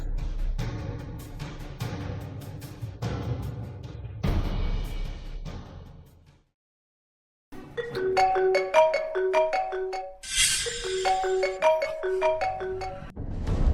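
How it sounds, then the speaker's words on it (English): A phone ringtone plays a repeating bright melodic pattern, loud and close, cutting in after a brief silence and mixed with background music. "phone ringtone"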